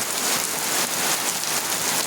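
Heavy monsoon rain pours down steadily on a village home in Gobindapur, Daganbhuiyan, Feni, a dense, unbroken hiss of drops striking surfaces with no pauses or voices.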